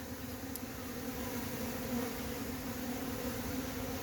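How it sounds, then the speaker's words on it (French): A honeybee swarm starting to pour out of the hive, producing a steady, droning hum of many bees buzzing at close range, continuous and fairly quiet with no talking. "Alors l'essaim, ça commence à sortir tout doucement de l'essaim."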